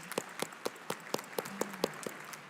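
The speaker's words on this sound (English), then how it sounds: "let's do lots of cheering" Slow, evenly spaced hand claps at a health and wellbeing awards ceremony, about ten distinct claps from a small number of people, fairly quiet and without any cheering.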